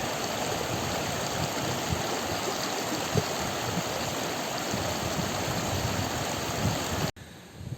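Steady, dense rushing water from the Karaçay waterfall roars continuously at close range, a broad even wash of noise that cuts off abruptly near the end.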